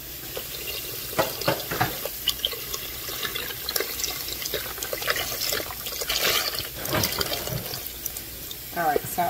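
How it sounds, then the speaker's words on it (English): Running tap water pours and splashes into a container, with clattering handling sounds and the stream's pitch shifting near the end. "And I'm going to fill this container with water."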